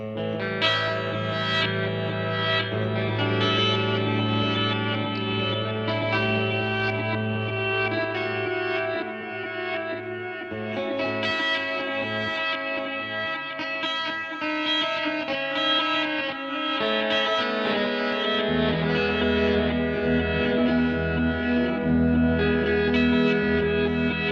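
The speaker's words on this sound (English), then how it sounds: "flip it into reverse setting so you can hear what the reverse delay sounds like" Sustained electric guitar through a Donner Twin Series Tap Delay pedal on its reverse setting, swelling backwards-sounding delay repeats, notes blooming in rather than decaying, dense and continuous throughout.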